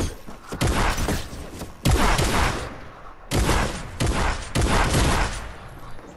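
Loud, heavy shotgun blasts ring out in a creative-mode video game, landing in bursts of repeated booms separated by brief pauses, each blast leaving a rough, crackling tail.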